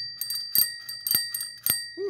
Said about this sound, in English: by the way, it does have this fancy bell on it here